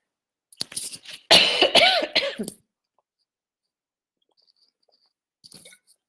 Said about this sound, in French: j'ai une toux en fait qui veut pas passer